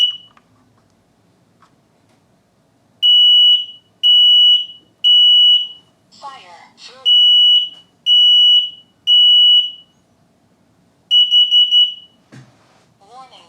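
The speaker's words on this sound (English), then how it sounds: "It's as simple as that to test your smoke alarm." Repeated loud, high-pitched electronic alarm beeps in short bursts from a smoke and carbon monoxide alarm under test, interrupted by a brief synthetic voice, then a final rapid cluster of beeps.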